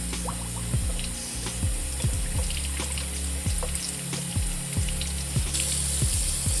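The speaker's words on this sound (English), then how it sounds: "we're gonna start by pre-washing the film. We're just gonna pour some water in here" Water poured into a film developing tank for a pre-wash before black and white film processing, a steady splashing trickle with repeated small knocks and clicks, close and fairly quiet, no talking.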